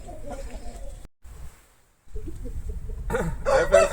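Chickens of the Aseel breed clucking and a rooster crowing nearby. Broken, close calls come through under background noise, with a louder crow near the end.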